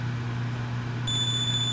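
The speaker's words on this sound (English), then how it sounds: "now we get to listen to this annoying beeping noise" A thin, steady electronic beeping tone in a Mega Man video game, high-pitched and constant, sitting over a low hum and a quiet music background, with an extra higher tone joining partway through.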